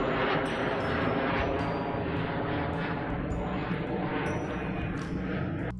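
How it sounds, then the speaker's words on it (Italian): An airplane passes overhead, a broad continuous roar of jet engine noise filling the background, steady and fairly loud from start to finish, with brief sharp clicks and thumps near the microphone. "Passando un aereo."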